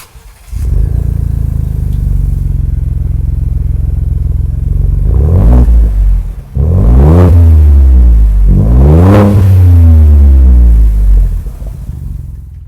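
A 2021 Ford Bronco with an MBRP 2.75-inch perf core muffler, 6-inch body and 3-inch piping, idling in a deep, loud rumble, then revved hard three times, each rev climbing and falling back to idle.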